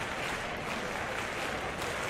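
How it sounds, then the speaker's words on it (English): A video-game crowd of Mets fans at a baseball game claps along, a dense, steady wash of applause with no pauses throughout. "The Mets fans clapping along."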